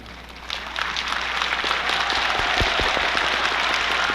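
Sustained audience applause fills a university entrance ceremony hall, a dense steady wash of many hands clapping at moderate volume, swelling slightly after the first half second and holding evenly throughout.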